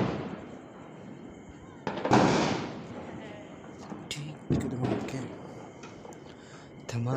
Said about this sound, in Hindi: धमाके पे धमाके हो रहे दोस्तों